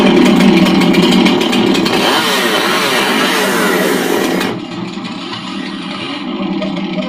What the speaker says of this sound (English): we're going to get the chainsaw sound effect ready